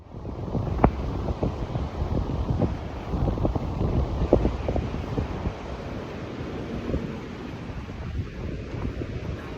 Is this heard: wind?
yes